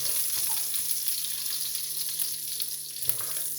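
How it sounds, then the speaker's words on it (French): Smoked bacon lardons fry in a pan for a red-wine bolognese, giving a steady, close, even sizzle throughout with only faint stirring touches and no speech. "Et je vais faire revenir pendant ce temps-là, oui, les lardons"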